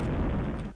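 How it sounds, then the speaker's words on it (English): A brief, full-bodied explosion blast from the space game Escape Velocity, loud and booming at once, then cutting off sharply under a second. "you could see that explosion"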